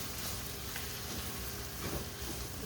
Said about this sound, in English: I'm gonna put a little bit of soy sauce right now and then add some more once I put my rice in.